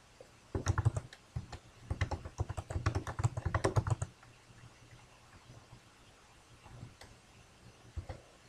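Quick bursts of typing on a computer keyboard, a dense run of close key clicks for several seconds followed by quiet with only a couple of stray taps, no speech.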